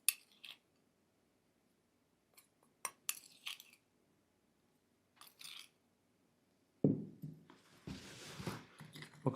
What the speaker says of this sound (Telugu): ఈ విధంగా ఇట్లా పాలు తీసుకొని అందులో ఈ పొడి మొత్తం కలిపేసుకోవాలి.